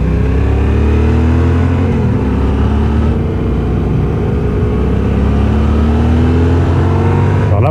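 Yamaha Tenere 700 motorcycle engine running steadily while riding, a continuous loud low drone with shifting harmonic tones as revs rise and ease, heard alone without talk.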